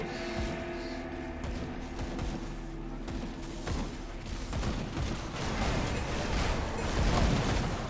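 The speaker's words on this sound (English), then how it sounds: "I hear somebody shooting." Gunfire rattles in the Blood Grove zone of the video game Grim Dawn, scattered bursts of shots popping over a dense, grainy background din that grows busier toward the end, with no clear voice over it.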